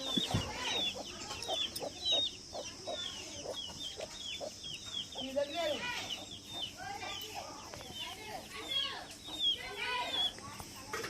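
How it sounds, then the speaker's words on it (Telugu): Chickens cluck and chatter repeatedly at a rural home, short bright calls overlapping near and far, with occasional voices in the background. "కోళ్ళు"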